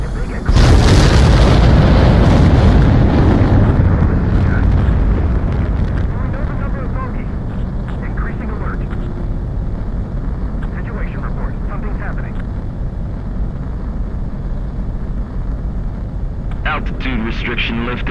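A fighter jet roars off the runway in the Ace Combat video game: a loud, sustained, broadband engine blast that opens strongly, then holds as a steady rumbling thrust under intermittent radio chatter.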